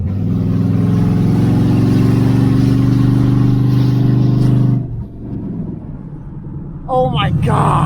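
A loud car engine revs hard with a strong harmonic drone, then drops off on a downshift with crackling exhaust pops and a brief re-rev near the end; excited voices can be heard over it.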